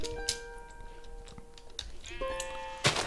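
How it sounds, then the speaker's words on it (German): Two wavering sheep bleats in the video game Minecraft, one early and a second near the end, fairly close and clear over quiet background ticks. "hier ist irgendwo ein Schaf"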